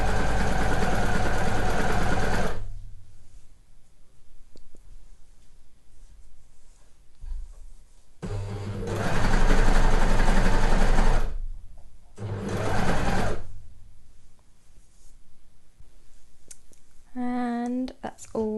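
An overlocker sews the hem of a sweatshirt, running in loud, close bursts of rapid whirring stitching that start and stop with quiet gaps between, followed by brief speech at the end.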